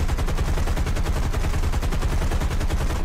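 Fighter plane machine guns in War Thunder: a loud, continuous rapid-fire rattle at a steady rhythm, unbroken from start to finish with no talking.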